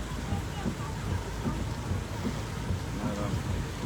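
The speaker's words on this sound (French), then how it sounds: "Ah, la pluie." Steady rain pours down outdoors in Cameroon, a dense continuous hiss with low rumbling undertones that holds evenly throughout, loud and close with no clear voices.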